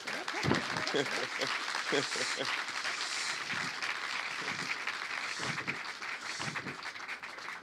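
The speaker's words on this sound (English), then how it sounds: "let's introduce and clap for our panel" An audience claps steadily for a panel at a film industry talk, dense applause filling the room throughout, with voices and cheers mixed in.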